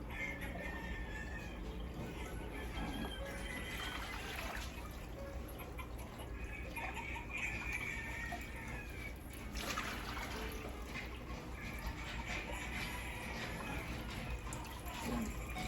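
Water is scooped out of a home aquarium, with trickling, dribbling and gentle splashing over a low steady hum. The sound runs unbroken and fairly faint, with brief brighter pours now and then.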